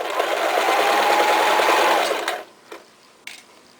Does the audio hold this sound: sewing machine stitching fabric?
yes